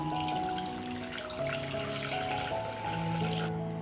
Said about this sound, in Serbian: I sipat ćemo vodu do visine poklopca